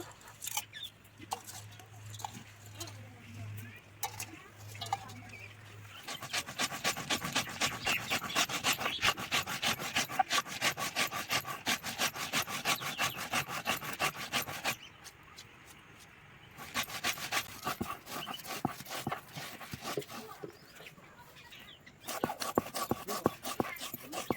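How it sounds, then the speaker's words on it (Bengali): Soaked rice being wet-ground in a mixer grinder for cabbage pakora batter, a loud, steady whirring grind that runs in long stretches, stops briefly, then starts again, with no talk over it. "চালটা ভিজিয়ে রেখেছিলাম এখন চালটা বেটে নেব"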